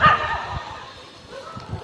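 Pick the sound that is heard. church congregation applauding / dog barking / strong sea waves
dog barking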